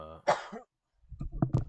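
A single sharp cough near the mic, followed after a short pause by faint rustling and shuffling noises.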